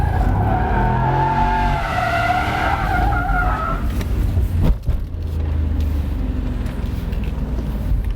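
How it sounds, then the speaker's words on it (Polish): A Mercedes SL 55 makes a launch-control start, tires squealing loudly as the engine roars up through a rising pitch, then the squeal breaks off and the car pulls away in a sustained, slightly quieter engine drone. "Ale słyszeliście nawet, jak fajnie ta procedura startu tutaj"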